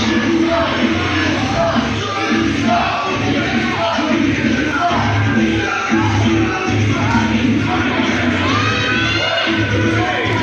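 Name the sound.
wrestling crowd, a few people clapping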